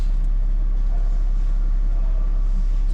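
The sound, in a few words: BMW E90 325d diesel car engine idling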